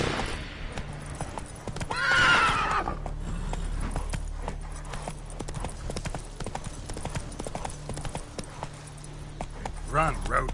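Hooves of Roach, Geralt's horse in The Witcher 3, clip-clop steadily in a fast gallop throughout, with a neigh near the start and game sounds around it; a voice speaks over the hoofbeats.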